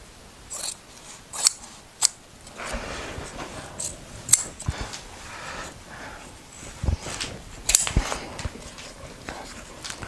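Scissors snip through upholstery fabric while a channel-tufted or fluted furniture back is being upholstered, giving a run of sharp close cuts and rustles spread unevenly over about ten seconds, with no talk.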